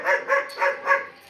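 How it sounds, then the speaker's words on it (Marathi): Several dogs outdoors in a rural Indian village give four sharp, evenly spaced barks, fairly close and loud, then fall quiet. "दोन दोन तीन तीन कुत्रे आहे ते बघ."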